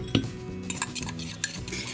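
A fork mixes sugar into butter in a bowl, giving a run of light metallic scrapes and clinks against the dish, close and fairly quiet, with no talking.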